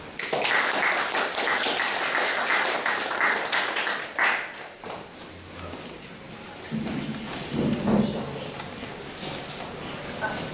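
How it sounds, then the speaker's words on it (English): An audience at a talk by math teacher Rohan Lewis of Kwangju Foreign School welcomes him with dense, sustained clapping that is loudest for the first few seconds, then softens and carries on with a low rumble underneath. "Let's welcome our speaker with a big round of applause"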